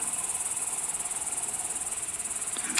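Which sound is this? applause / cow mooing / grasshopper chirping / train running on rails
grasshopper chirping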